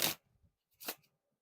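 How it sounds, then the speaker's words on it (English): Two short riffle shuffles of Theory11 playing cards, each a quick soft burst of flapping card edges followed by faint taps, quiet and close. "they handle fantastic for the shuffles, the riffle shuffles"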